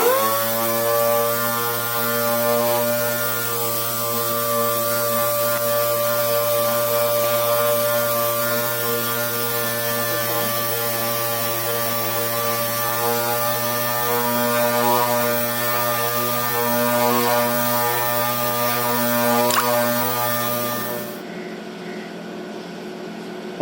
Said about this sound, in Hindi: इसकी कंपाउंडिंग और पॉलिशिंग प्रोसेस इज कंप्लीट